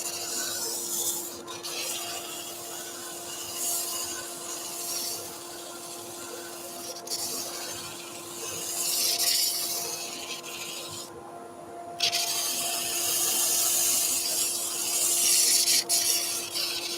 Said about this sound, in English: we're just going to sand them to shape.